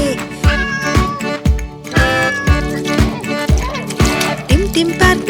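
Cartoon cat meows ring out in a Hindi children's rhyme about a monkey and a cat in a park, repeated short mews riding over a bouncy, rhythmic music track with sung vocals.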